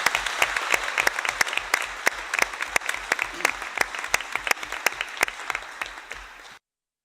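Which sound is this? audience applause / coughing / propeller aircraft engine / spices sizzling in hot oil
audience applause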